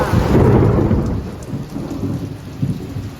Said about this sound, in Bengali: মনে হচ্ছে দেখি ভীষণ ঝড় উঠবে জোরে